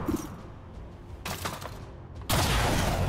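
Gunfire from the turn-based strategy game XCOM 2: War of the Chosen, a sharp burst of shots at the start, another volley mid-way, then a loud sustained fusillade to the end, with no talk.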